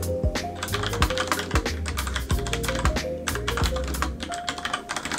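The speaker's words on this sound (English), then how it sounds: "This is a Cherry brown keyboard." Rapid typing on a mechanical keyboard with Cherry Brown tactile switches, an Epomaker RT100, in a steady stream of close, clacky keystrokes with occasional louder taps and no talk.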